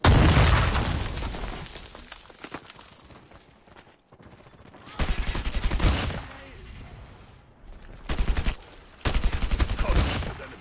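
Gunfire from a legendary weapon in Call of Duty Mobile: loud rapid automatic bursts with blasts, broken by short pauses, with game sound effects mixed in.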